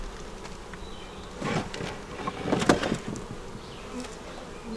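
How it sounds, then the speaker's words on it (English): Honey bees buzz steadily in a low drone inside a double-deep nuc hive during inspection, swelling louder in a couple of bursts as the hive is disturbed. "we have a bunch of bees on the inside"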